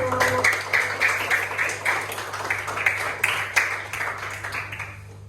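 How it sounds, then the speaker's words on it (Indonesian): Classroom applause for a student group, scattered clapping from a modest number of people over a constant background hum, gradually thinning and fading out. "tepuk tangan untuk kelompok 7"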